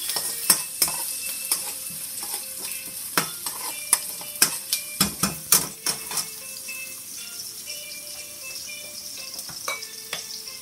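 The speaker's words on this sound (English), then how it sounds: "I'm going to add the onions and the peppers and toss it around. Let it saute real nicely in the oil." Onions and peppers sauteing in oil for a potato pie filling, a steady sizzle punctuated by rapid metallic clicks and scrapes of a utensil tossing them in the pan, busiest early then settling.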